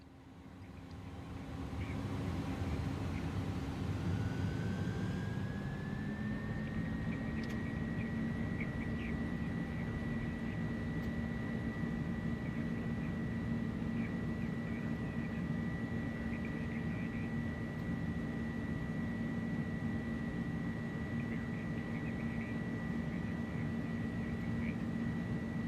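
Engines on an Airbus A300-600 UPS freighter spool up to takeoff power in Microsoft Flight Simulator, a steady roar with a rising whine that climbs and then holds at a constant high pitch throughout.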